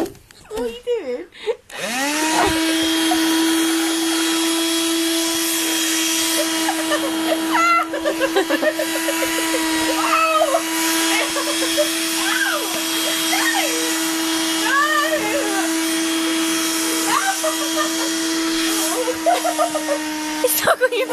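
A Hoover vacuum cleaner switches on and keeps running with a steady, loud whine close by, while voices talk over it throughout.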